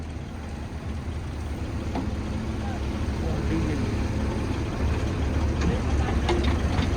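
A tractor engine idles with a steady, low, chugging rumble that continues throughout, with faint voices in the background.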